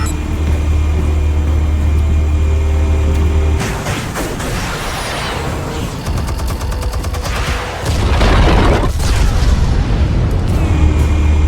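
Explosives detonating in Batman: The Telltale Series, heavy booming blasts with rumbling debris and crackling bursts, loud and sustained over a continuous low drone, with no talking.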